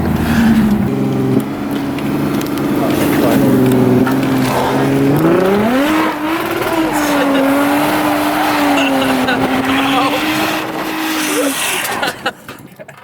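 A car doing burnouts for Target shoppers, its tires squealing loudly and steadily over a roaring engine, with the pitch wavering and rising before cutting off abruptly near the end.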